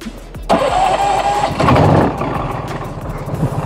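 An amusement ride's engine cranks and catches at a gaming event, rising into a close, loud rumble that settles into a steady idle over a few seconds.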